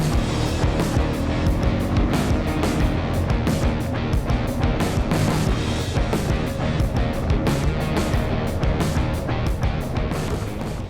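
A 2024 Honda Rubicon ATV rides along a trail with its engine running loud and steady close by, mixed with rough rumble and crunch from the ground throughout, with no talking.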